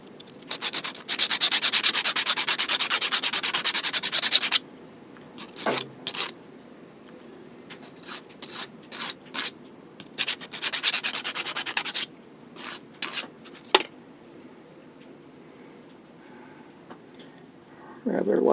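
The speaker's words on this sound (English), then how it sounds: "I'm going to sand a radius across the end of the" Sandpaper rubbing a radius onto the end of 1/8 inch square wood stock for an RC sailboat build: a close, steady scratchy stroke for a few seconds, short rubs and taps, another long sanding pass, then quiet.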